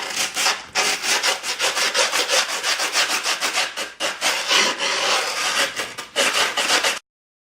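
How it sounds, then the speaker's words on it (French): Grip tape edges being rubbed hard along a Powell Peralta Flight 216 Caballero skateboard deck: loud, close, rapid back-and-forth gritty scraping strokes in a steady rhythm with brief pauses, no talking. "Histoire de bien marquer les bords et de bien faire adhérer le grip sur les bords de la planche."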